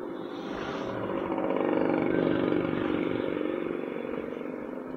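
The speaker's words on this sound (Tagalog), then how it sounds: "Narinig ko na may lagitik ng tambutso ko ah." A motorcycle engine drones steadily while riding, swelling slightly louder mid-way, with a faint rapid ticking from the exhaust buried in the rumble.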